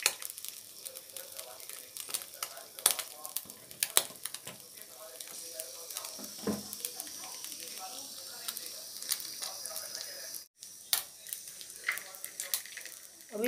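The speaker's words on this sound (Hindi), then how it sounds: "अभी मैं कढ़ाई में दे रही हूँ सरसों का तेल।" Mustard oil heating in a kadhai gives a continuous fine crackling sizzle, with scattered sharp pops and a brief metallic clatter near the end.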